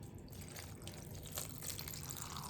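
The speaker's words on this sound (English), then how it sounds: "You can just fill up your kettle to about halfway, and then you're going to add water" Water runs steadily into a kettle, a soft continuous trickle and splash heard faintly and alone for a few seconds.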